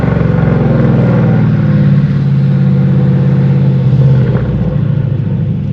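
A Mercedes CLS63 AMG running on E85 accelerates on a main road, its engine a loud, steady low rumble with rising revs and a brief surge near the middle, heard up close with no talking.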